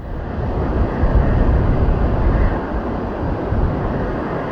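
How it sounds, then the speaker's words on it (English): A Boeing 787 airliner takes off from Sydney with a burst tire, a steady, loud, broad jet roar with deep rumble that holds level throughout. "This Boeing 787 was taking off from Sydney, bound for Thailand"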